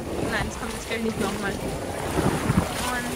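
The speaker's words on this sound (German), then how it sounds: "es geht ein Wind, es sind relativ hohe Wellen" Strong wind roars and buffets the microphone at a Swedish lake, with high waves sloshing against a boat underneath, while a person talks briefly over the steady rush.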